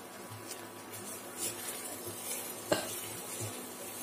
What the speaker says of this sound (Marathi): सर्व छान असं मिक्स करून घ्यायचं